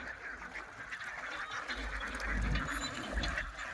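Domestic ducks kept for balut and salted eggs quack and honk in a loose, irregular chorus at moderate distance over a low background rumble.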